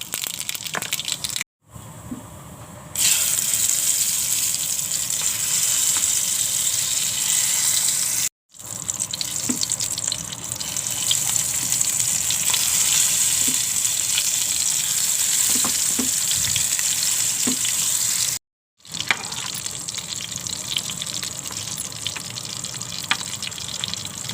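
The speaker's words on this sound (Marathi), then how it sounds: "तेल टाकलंय त्यामध्ये राई घालून घेते जिरे" Mustard seeds and cumin sizzling in hot oil in a kadai, a loud, steady hiss and crackle with scattered pops, close up, broken by two brief silent cuts.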